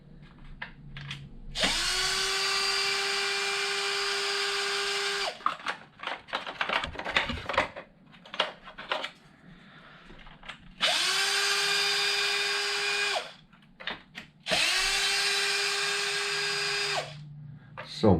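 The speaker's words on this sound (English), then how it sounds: "This one's always made a funny gear noise." A Traxxas RC truck's small motor whines in three sustained bursts with a high gear buzz, separated by scattered clicks and rattling handling noises, loud and close.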